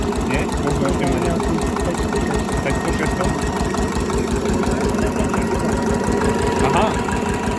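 A Slavia 8 hp stationary diesel engine idles at low revs with a steady, even thumping knock that runs throughout at close range, while people talk over it.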